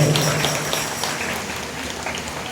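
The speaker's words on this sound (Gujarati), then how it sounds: "જોરદાર તાળીઓથી વધાવો" Audience at a Bhagavat katha clapping loudly in a dense burst that gradually fades, with faint talk underneath.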